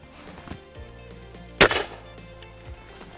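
A single sharp, loud shotgun blast at a clay target during FITASC shooting outdoors, standing out clearly against quiet background noise, with a short ringing decay after the crack.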